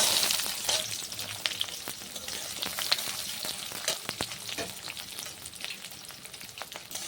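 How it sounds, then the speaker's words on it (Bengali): Chopped onions in hot oil sizzle and crackle in a pan, a steady frying hiss with scattered pops, moderately close and free of talk. "আর এই গরম তেলের মধ্যে আমি পেঁয়াজটা এখন দিয়ে দিচ্ছি।"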